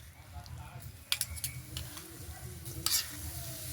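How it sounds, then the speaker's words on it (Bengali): Freshly grated coconut and nolen date palm jaggery being stirred in a wok over a low flame into a sweet filling: soft, quiet scraping and gentle sizzling with a few sharper clinks of the spatula. "এবার নেড়ে চেড়ে খুব সুন্দরভাবে একটা পুর বানিয়ে নিতে হবে।"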